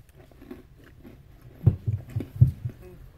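Crunchy bites into an airy, styrofoam-like treat from a monthly treat box, a few sharp crunches clustered near the end after a quiet start, close and moderately loud.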